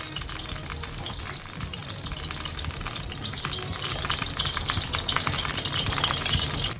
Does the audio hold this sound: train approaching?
no